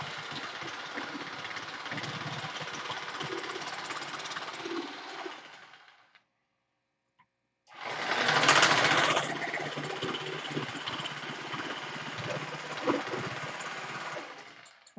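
A power tool cutting and sanding a Mega Tucker cowl runs in a steady, loud buzzing whine, stops for about a second and a half, then restarts with a harsher grinding surge before settling back to a steady drone.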